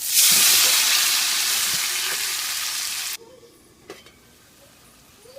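Tomatoes added to hot oil with dried red chillies, bursting into a loud close sizzle that fades slowly and then drops abruptly to a faint simmer with a few small clicks.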